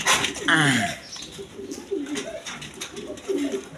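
Angel pigeons at a bird sale coo close by in repeated soft, throaty phrases, with some background noise between the calls.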